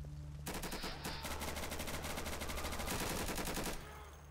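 Automatic gunfire in the video game Insurgency, long rapid bursts of loud close shots running almost without pause for several seconds, then cutting off.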